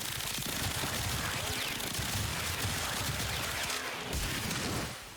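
Rapid automatic weapon fire in the shooter game Warframe, a dense, continuous loud barrage of shots that cuts off near the end.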